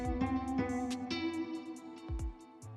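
A guitar instrument inside FL Studio plays a slow melodic phrase of plucked notes over sustained tones, with soft, clear note attacks and a few low thumps, heard alone at a moderate level.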